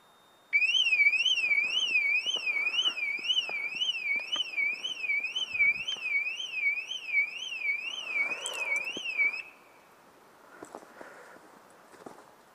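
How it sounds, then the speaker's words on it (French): A Peugeot car alarm wails close by, a loud rapidly warbling electronic siren that starts abruptly, runs steadily for about nine seconds and then cuts off, leaving quiet background with faint footsteps. "si je la ferme avec la clé, normalement ça active l'alarme"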